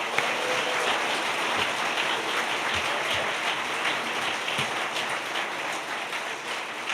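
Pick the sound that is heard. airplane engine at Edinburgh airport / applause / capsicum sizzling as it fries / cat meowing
applause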